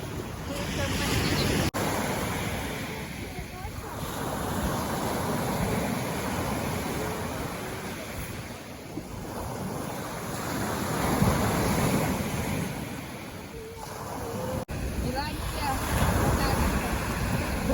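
Steady wash of Black Sea surf rolling onto the shore near Odesa on a foggy, windless day, a continuous broadband roar with gentle swells, mixed with faint wind and distant voices.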